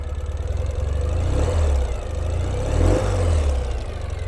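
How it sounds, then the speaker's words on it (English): Engine of a 2014 Ural Retro motorcycle, freshly valve-adjusted, running at a steady low idle with a brief gentle rise in revs partway through, close and continuous with no voices. "I'll give it just a little rev for you."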